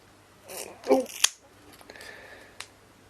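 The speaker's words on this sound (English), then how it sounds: "There's a sort of tearing that you hear." Paper-like backing peels and tears from Korg NTS1 kit panels during assembly, giving a few short crackling rips and sharp snaps, close and fairly loud, with a brief faint snap near the end.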